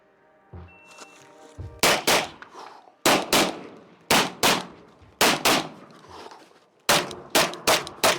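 A Glock pistol fires on steel targets, producing about a dozen sharp, loud shots mostly in quick pairs. Each report is followed by a ringing metallic clang, with short gaps between the strings of fire.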